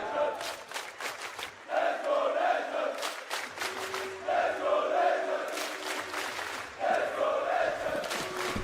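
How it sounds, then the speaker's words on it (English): A large crowd chants in rhythmic bursts at the BLAST.tv Major 2023 esports match, loud and echoing, rising and falling in repeated waves with scattered cheers between. "The crowd wants Legion."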